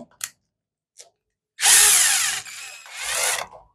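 A power tool tightens a nut while a Defender DF 2916 fan is assembled: two close, loud whirring bursts about a second long each, with a short pause between them and a few small clicks and handling taps beforehand.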